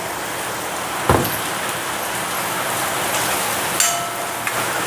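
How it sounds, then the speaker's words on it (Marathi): Heavy rain pours down in a steady, dense hiss. A couple of brief knocks or clatters sound from nearby. "मोठ्या प्रमाणात पाऊस पडत आहे। पावसाचा आवाज येत असेलच"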